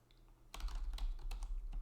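Fingers tap out a quick burst of typing on a computer keyboard, starting after a brief quiet moment and continuing in rapid, uneven clicks, close and clear.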